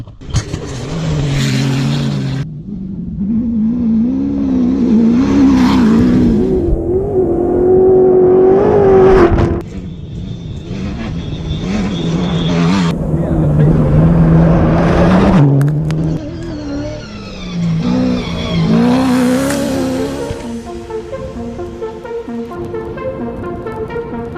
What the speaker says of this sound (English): We've had the bikes ripped through, and here come the cars now.